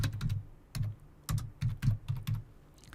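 Quick, close bursts of clicking keys as someone types on a computer keyboard in a quiet room.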